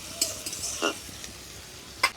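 Chopped onions fry in mustard oil over a cumin and garam masala tempering, a soft steady sizzle broken by a few sharp spatula scrapes and clinks against the pan.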